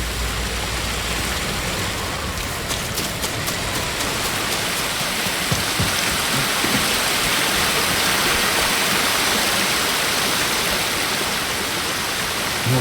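Waterfall in Ghost of Tsushima, a loud, steady broadband rush of falling water that fills the whole scene without pause, with faint higher clicks early on and no voices.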